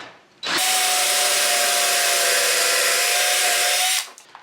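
A power drill bores dowel holes in wood through a DowelMax jig, running as one steady, loud whine for about three and a half seconds and then stopping.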